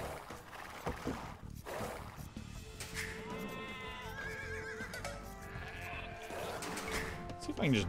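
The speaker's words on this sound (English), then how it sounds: "Kill that sheep." Sheep bleat repeatedly in Age of Empires 2, quiet wavering calls mixed with other game sounds while a player talks over them.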